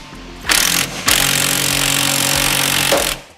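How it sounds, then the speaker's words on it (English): A powered tool drives a ball joint popper on a Mazda Miata's upper suspension ball joint, with a short loud whirring burst and then a longer sustained buzzing run nearby before it winds down. "I'm going to have to apply the ball joint popper"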